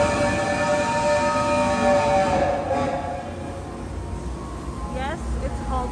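A theme park train, the Hogwarts Express at Universal Studios Orlando, rumbles along close by with a steady mechanical drone, easing off partway through, while people talk over it.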